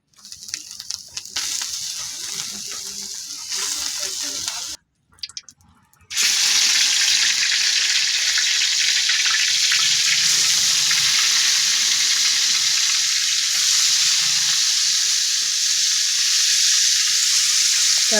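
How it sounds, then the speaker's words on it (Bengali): Fish fries in a pan with a loud, continuous hiss of sizzling oil, briefly interrupted by a short gap before the steady frying resumes close up and runs on alone. "আমি এখন মাছ ভাজতে আছি।"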